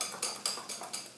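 Biscuit dough being mixed with soaked chia seeds in a bowl, giving five evenly spaced light scraping clicks of a utensil against the bowl, faint and close.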